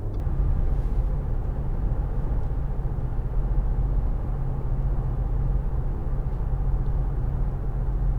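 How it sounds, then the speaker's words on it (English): A 2013 Audi A4 Avant 1.8 TFSI SE picks up speed, heard from inside as a steady low engine and road rumble that holds level throughout, with no voices. "I'll just give it a bit of gas."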